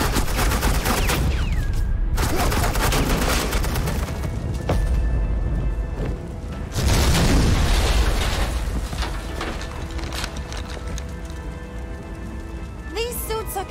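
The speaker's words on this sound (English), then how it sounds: "suppressing fire" Sustained suppressing gunfire in a comic-book crime drama, a dense, continuous crackle of rapid shots and impacts with a loud surge partway through, running under scattered talk.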